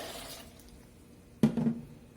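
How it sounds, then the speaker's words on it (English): Hot tea poured into a blender jar in a tea shop setting: near silence, then a sudden splash and short gurgling pour lasting under a second, close and moderately loud. "So you can just pour it right in there"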